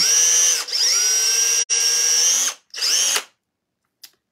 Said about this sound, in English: So I'm going to take a drill here